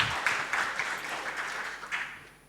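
A church congregation at an online worship service applauds, with steady clapping from many hands that gradually fades out at the end, no voices over it.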